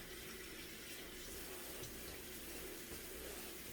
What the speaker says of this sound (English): I'm going to run a little bit of cold water on them